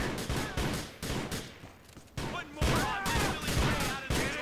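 A shotgun in the video game Grand Theft Auto 4: The Lost and Damned fires a rapid series of sharp, loud blasts amid a chaotic game soundscape with faint whistling tones.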